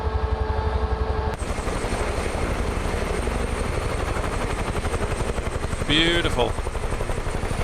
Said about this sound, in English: Lovely, lovely helicopter.